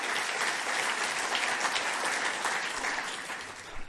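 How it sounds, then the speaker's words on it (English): A panel discussion audience gives a brief round of applause, a dense wash of many hands clapping at once, loud and steady before tapering slightly at the end. "Let's give him a quick round of applause."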